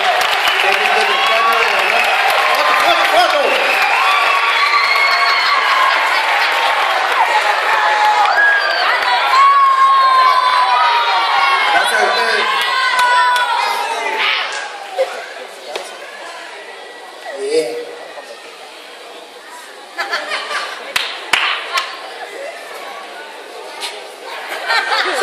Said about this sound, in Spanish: Excelente. Aplauso.